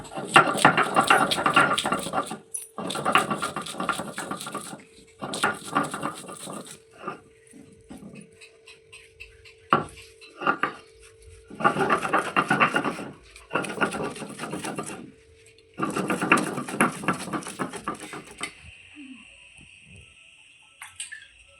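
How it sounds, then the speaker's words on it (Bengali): Garlic is ground to a paste in repeated bursts of rough, rhythmic scraping strokes, each lasting a couple of seconds and separated by short pauses, close and fairly loud. "প্রথমে রসুনটাকে পুরো বেটে নেব"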